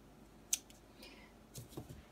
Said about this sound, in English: I'm just going to trim the edge off of the second knot